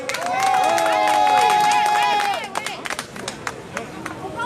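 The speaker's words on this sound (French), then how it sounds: "applaudissez très fort" An audience breaks into applause at a political gathering, clapping rising briefly and then scattering into sparse individual claps, with a voice speaking over the start.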